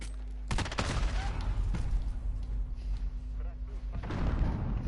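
AUG rifle gunfire in a video game rattles in dense, rapid bursts that continue for several seconds, loud and close, layered with other game sounds and background radio chatter.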